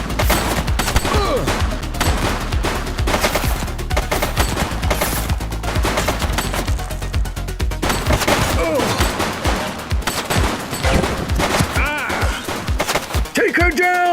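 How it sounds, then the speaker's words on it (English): A suspect fires during a gang raid in the police game The Precinct: loud, dense bursts of rapid gunfire roll almost continuously with overlapping shots and echoes, close and intense throughout. "He's shooting!"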